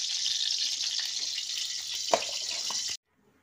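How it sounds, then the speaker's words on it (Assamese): Ghee and maida flour sizzling in a kadai for halwa: a close, steady hiss that holds for about three seconds, with one sharp clink partway through, then cuts off abruptly to near silence. "এতিয়া ঘিউ দি দিলে কেৰাহীত"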